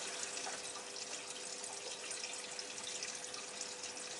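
Water runs steadily into a Miele Meteor V4760 washing machine, a soft continuous hiss and gurgle of filling at low volume with no voices.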